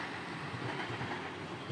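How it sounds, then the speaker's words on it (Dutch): A long freight train of ten wagons rolls past a Dutch railway line near Zwolle with a steady, dense rumble and faint clatter of wheels, continuous and fairly close. "Er komt de trein aan. 1, 2, 3, 4, 5, 6, 7, 8, 9, 10 wagons."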